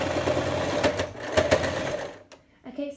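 A sewing machine stitches fabric for an up-cycled cloth face mask, a close, fast mechanical whirr running for about two seconds before stopping, with a short stir of movement afterward.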